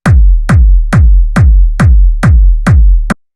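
A layered, heavily distorted hard techno kick drum hits seven times in a steady four-on-the-floor pulse, each a loud booming thump with a gritty, low-passed top and a deep decaying tail, then the sequence stops abruptly.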